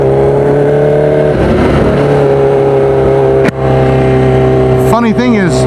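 A Kawasaki Ninja H2R motorcycle engine on a ride produces a loud, steady droning hum with a shift in pitch near the end, heard under a person talking.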